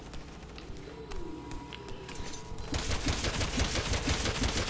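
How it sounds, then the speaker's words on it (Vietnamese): Rapid gunfire from the video game Resident Evil 6 breaks out partway through, a dense loud burst of shots following quieter game ambience and music. "Xạ bắn nhau loạn xạ bên đấy vậy."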